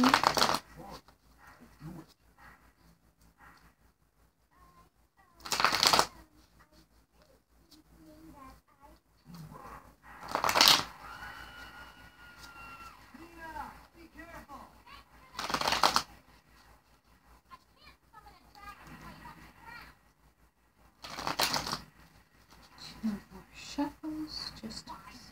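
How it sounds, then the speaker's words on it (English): Tarot cards being shuffled for a reading, in several short bursts of riffling spaced a few seconds apart, close and crisp, with a person talking quietly in between. "A lot of shuffling, I just want to make sure it's accurate"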